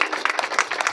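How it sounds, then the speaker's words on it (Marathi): Audience applause for two kirtan maharajs at an Akhand Harinam Saptah in Jadhavwadi, a short burst of dense, steady clapping that is loud and close. "दोनही महाराजांसाठी जोरदार टाळ्या वाजवा"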